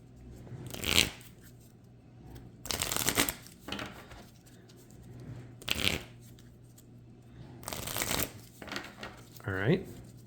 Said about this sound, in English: I'm going to go ahead and shuffle that into my deck.